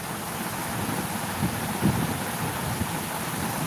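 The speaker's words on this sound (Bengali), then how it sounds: "অন্ধকার তার জন্য বৃষ্টি দেখাতে পারছি না কিন্তু অনেক বৃষ্টি হচ্ছে" Heavy rain pours down steadily in the dark, a dense continuous hiss with a few soft low rumbles that may be distant thunder, no voices.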